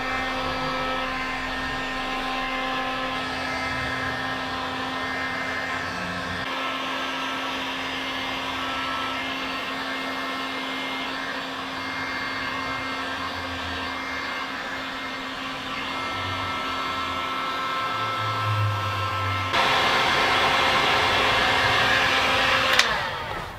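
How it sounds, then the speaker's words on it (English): A heat gun runs steadily to remelt wax on homemade waxed canvas tin pants, giving a constant close blowing whir with a faint hum that rises slightly near the end. "Then using a heat gun, I'll just remelt the wax and let it soak into the fibers."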